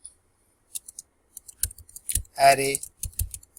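Scattered keystrokes click on a computer keyboard while code is entered, close and crisp. A single spoken word falls in the middle.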